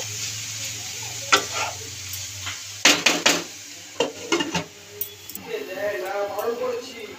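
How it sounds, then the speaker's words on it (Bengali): Fenugreek leaves and brinjal are stirred in a frying pan, making a soft sizzle and a few sharp metallic clanks and scrapes of a spatula against the pan. "এবার ভালো করে নাড়িয়ে ছাড়িয়ে নেব।"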